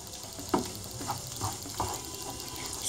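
Minced meat filling frying in a pan for a börek, a steady sizzle with a few scraping stirs of a spoon, close and fairly quiet.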